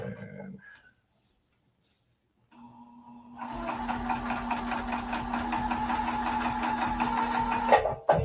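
An industrial sewing machine stitches vinyl fabric as it feeds through on its own, starting after a quiet pause and running as a steady, fast mechanical whir with a rapid stitching rhythm that holds to the end.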